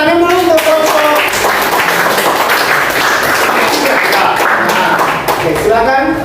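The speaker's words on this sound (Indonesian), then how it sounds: "Tepuk tangan dulu untuk kelompok." Classroom applause for a student group presentation, a dense burst of many hands clapping close by, with voices calling out over it at the start and end.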